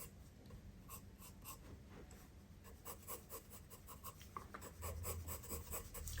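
Pencil shading on paper for a portrait drawing, quiet rhythmic scratchy strokes repeating steadily, close and faint.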